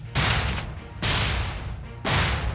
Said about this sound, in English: one of the biggest key elements you would need for superhero and villains: explosions